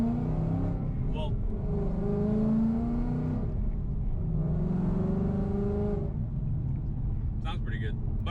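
A modified 2018 Ford Mustang engine running on E85 revs up and down twice, a deep throaty roar rising and falling, with a voice speaking over it.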